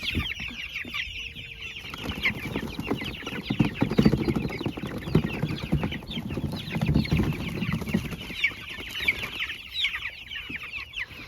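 Meat chickens in a chicken tractor cluck and chatter continuously, a close, busy flock with overlapping calls rising and falling throughout.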